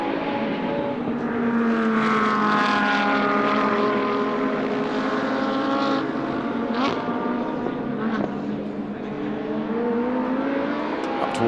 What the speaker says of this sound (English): So there's the flying Lamborghini.